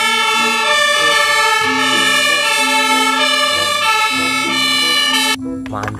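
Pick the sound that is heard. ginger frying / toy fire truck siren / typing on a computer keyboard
toy fire truck siren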